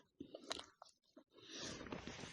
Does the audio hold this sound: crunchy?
yes